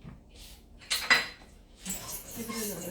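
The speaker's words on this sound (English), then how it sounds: "Give it another stir." A spoon clanks and scrapes against a pot while stirring meatballs seasoned with garlic salt, two brief metallic knocks standing out over quiet background, then a softer stir.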